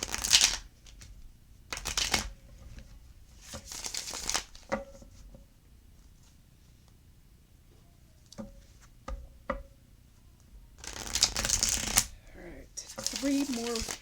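Tarot cards are shuffled in repeated brisk bursts of riffling and slapping, each lasting about a second, separated by quieter stretches of soft card taps and handling.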